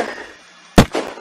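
Gunfire in the video game Unturned: one sharp, loud shot bursting out of quiet, followed shortly by a weaker second pop.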